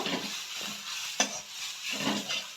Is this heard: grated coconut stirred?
yes